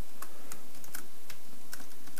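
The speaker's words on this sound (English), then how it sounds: "right now I'm just using the arrows on my keyboard here" Arrow keys on a computer keyboard being tapped repeatedly, a series of close, light clicks at an uneven pace with no voice over them.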